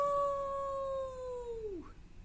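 A single drawn-out wolf-like howl, imitated by a voice for a toddler story time, holds a steady pitch for over a second and a half before sliding down and fading.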